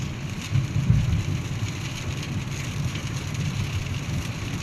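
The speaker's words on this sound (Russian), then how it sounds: "дождик стихает" Heavy rain during a thunderstorm hisses steadily across a surface, with a low rumbling swell near the start that eases into an even downpour, close and continuous with no voices.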